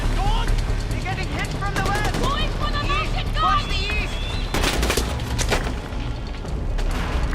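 Gunfire in the video game Far Cry 4: a few short, broadband shots and blasts, with a denser burst near the middle, mixed under steady game noise and someone talking throughout.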